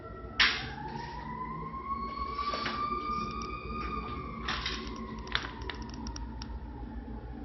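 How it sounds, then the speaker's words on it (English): A siren wails with a long rising and falling tone, fairly faint and distant, with a few sharp clicks scattered over it. "Hear a siren."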